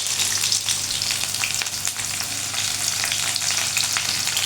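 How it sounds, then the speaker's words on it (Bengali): Chopped onions fry in hot mustard oil with nigella seeds, giving a loud, steady, dense sizzle across the whole stretch with faint crackles and no talking. "পরিমাণ মতন আমি সরিষার তেল দিয়ে দিলাম লতিতে একটু বেশি তেল লাগে অল্প একটু কালো জিরে পর কুচিয়ে রাখা কিছু পেঁয়াজ"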